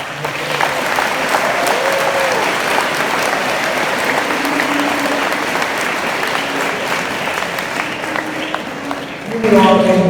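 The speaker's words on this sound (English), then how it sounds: "I'd like to give them a round of applause." Audience at a school Spirit Award presentation breaks into applause, a dense steady clapping from a crowd, loud and sustained throughout, with a voice speaking over it near the end.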